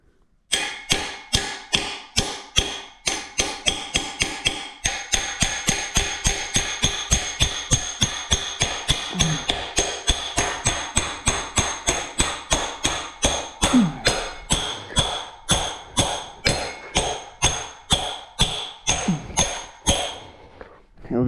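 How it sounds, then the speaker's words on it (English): A hammer repeatedly strikes a stuck, rusty part on a BMX bike during a rebuild, dozens of sharp metallic blows in a steady rhythm, close and loud, speeding up toward the end. "We need a hammer."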